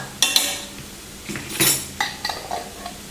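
Ground coriander and garam masala are stirred in a pan with a metal utensil, producing a series of close, distinct scrapes and clinks against the pan with a faint sizzle beneath.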